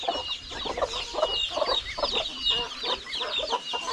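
Brooding hens and chickens cluck steadily and close by, with overlapping throaty calls and higher chirps forming a continuous farmyard chorus.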